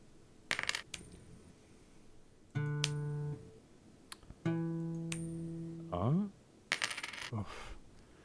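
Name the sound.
coins flipping and dropping in video game Unfair Flips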